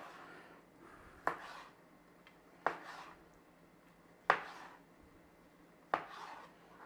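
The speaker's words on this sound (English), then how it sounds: "slice them into about 1 centimetre pieces" A knife slices through a warm, plump cooked sausage on a board, making four crisp, evenly spaced cuts roughly a second and a half apart, each a sharp close tap over quiet kitchen background.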